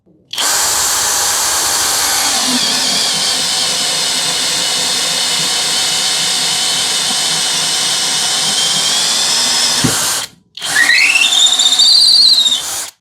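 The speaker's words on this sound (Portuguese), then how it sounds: "E até então nenhuma outra furadeira tinha conseguido fazer essa perfuração em cambará com essa medida de broca aqui" A Hanabi LJ-2023 cordless drill bores steadily into dense cambará wood, a loud continuous whine with a squealing edge lasting about ten seconds, then a brief stop and a second short burst of rising motor pitch.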